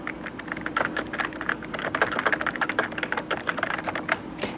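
Keys on a computer keyboard clatter in a quick, uneven run of close, crisp taps, someone typing a short line of text with no voices over it.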